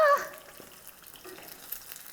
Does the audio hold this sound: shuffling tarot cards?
no